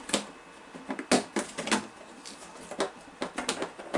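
Curved scissors cutting a clear Lexan RC car body, heard as a run of sharp, close snips and crackles in an uneven rhythm, with brief pauses between bursts.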